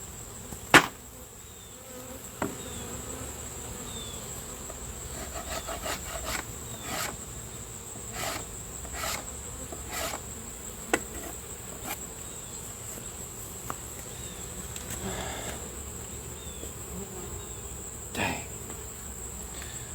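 Honey bees from a nuc hive hum steadily during an inspection, a close, continuous buzz with a high whine over it, broken by occasional knocks and scrapes of hive parts.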